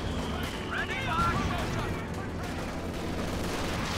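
Gunfire in the Company of Heroes 2 real-time strategy game during an urban Axis versus Allies fight, a continuous wash of distant rifle and machine-gun shots and rumbling battle noise, with a voice talking over it.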